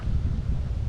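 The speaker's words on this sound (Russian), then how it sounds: "слабый ветер немножко мешает" Light wind blows into a microphone outdoors on a clifftop, a steady soft low rumble with no other sounds.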